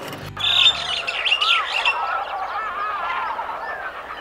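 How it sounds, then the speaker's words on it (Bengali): At night, geese or similar fowl call loudly in a burst of harsh, honking chirps, several voices overlapping and then trailing off into quieter calls. "এত রাতে এরকম পাখি ডাকছে কেন?"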